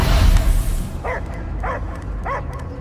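Dog barking in the video game Marvel's Guardians of the Galaxy: a few short, repeated yelps and barks at moderate distance over a low, rumbling game ambience, after a louder noisy burst at the start.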